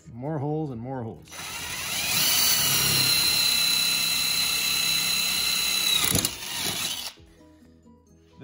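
A power drill bores holes for fitting electric drawer locks, whining loudly and steadily for several seconds close by before stopping, with a short hum of voice just before it starts.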